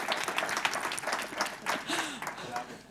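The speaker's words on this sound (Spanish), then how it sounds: "Un aplauso a Óscar" Sustained applause from an audience, dense clapping filling the room, with a voice rising briefly partway through.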